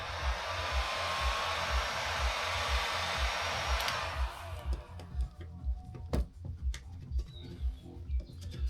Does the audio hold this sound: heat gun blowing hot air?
yes